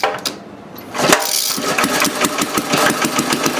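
A 1930 Briggs FH engine is kick-started with its choke on, a few sputters and then catching into a loud, close, rapid and steady putting run.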